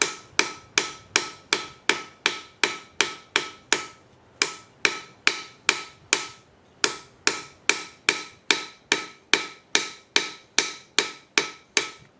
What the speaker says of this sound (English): the ball peen end moves the metal out in all directions.